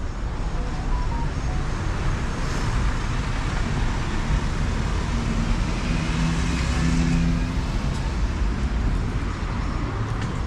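Highway traffic in Mexico City roars steadily as cars pass nearby, a loud, unbroken wash of engine and tire noise that swells slightly midway.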